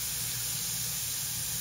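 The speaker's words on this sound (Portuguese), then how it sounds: "Só mesmo dar uma fritadinha no frango" Chicken pieces frying in a pan for a stroganoff, giving a steady, even sizzle and hiss that stays moderately quiet and unchanging throughout, with no voices.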